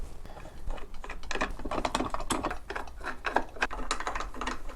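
Fence cheeks on a Trend WRT router table being screwed in from the back, giving a steady run of small ratcheting, gear-like clicks and scraping turns, close and fairly even throughout, with no talking.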